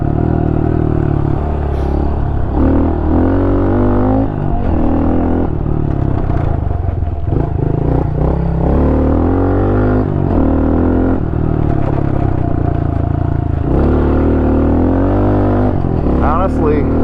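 Honda CRF110 dirt bike, a 2023 model, riding over hard-packed dirt, its small engine droning and revving steadily throughout with rattling clatter, while a rider talks over it.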